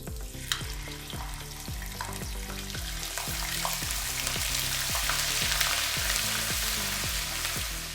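Ginger, garlic and onion paste fries for chana dal masala with a steady, loud sizzle, while a spoon stirs and scrapes the pan in a regular rhythm of clicks throughout, with no talking.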